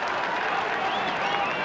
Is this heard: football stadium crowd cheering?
yes